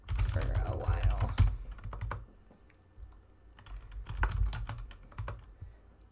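Bursts of typing on a computer keyboard, quick clusters of key clicks with a pause in the middle, close and moderately loud with no talking.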